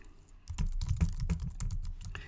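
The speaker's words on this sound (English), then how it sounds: "And I know you can hear my keyboard." Rapid keystrokes on a computer keyboard, picked up close by a very sensitive microphone, tapping in uneven bursts with no voices.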